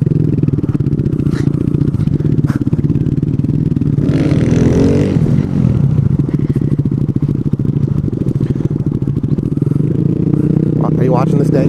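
A motorcycle engine drones loud and close as it revs for wheelies, with a brief surge of throttle and clattering mid-way, while a voice talks over it.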